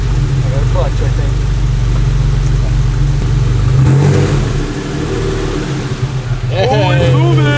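A six-speed swapped Porsche 964 engine idles loudly up close and then revs as the car pulls away, with excited voices talking over the steady engine drone.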